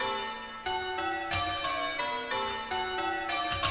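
Church bells in a tower ring at normal speed for change-ringing practice, struck one after another in a steady, evenly spaced sequence of clear, overlapping tones at moderate volume.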